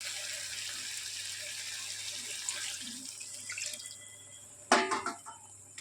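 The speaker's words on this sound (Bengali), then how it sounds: "এবার জল দেবো।" Water running into a pan of tengra fish curry being cooked in oil, a soft continuous trickle under background hiss that ends in a brief louder splash near the end.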